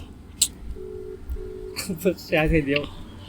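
A phone call being dialled, with a brief keypad tone and then a steady ringing tone heard faintly before people start talking.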